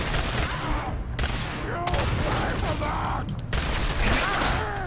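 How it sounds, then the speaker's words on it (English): Sustained gunfire in Fallout 4, a loud, dense fusillade of overlapping shots and bursts that fills the whole stretch, with a couple of brief lulls. "I have no idea what's shooting me."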